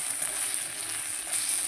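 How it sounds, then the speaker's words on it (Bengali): Spice paste with Kashmiri chili powder sautéing in a pan, a steady, fairly loud sizzle with a bright hiss running throughout and no pauses. "চলো এবার মশলাটাকে কষি"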